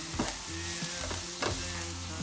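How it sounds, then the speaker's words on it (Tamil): Onion and garlic sautéing in a pan, a steady sizzle broken by a few soft stirring scrapes, close and moderately quiet. "உள்ளியும் போட்டு கொஞ்சம் வதங்க விடுவேன்."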